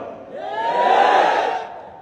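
A large crowd raises a loud collective chant, a swelling roar of many voices that rises and fades over two seconds.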